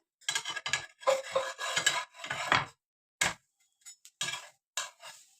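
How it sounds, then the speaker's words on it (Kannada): A cooking pot lid is lifted and handled on a low-flame stove, giving a series of close metallic clinks and scrapes in irregular bursts with short silences between. "ಇವಾಗ ಲಿಡ್ ಓಪನ್ ಮಾಡೋಣ"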